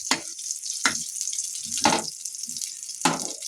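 Curry being put on to cook sizzles in a pan in four separate loud surges of frying hiss, each fading back toward quiet between bursts.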